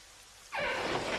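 Rain falling in a steady hiss that starts abruptly and continues evenly, moderately loud with no voices.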